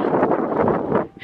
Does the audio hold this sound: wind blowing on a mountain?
yes